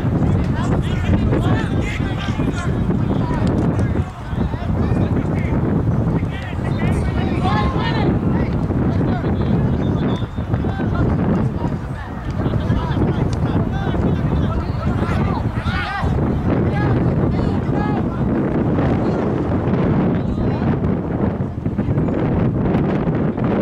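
Strong wind buffets the microphone across an outdoor soccer field during a youth match, a constant loud roaring rush over the whole stretch, with shouting voices from the sideline mixed in.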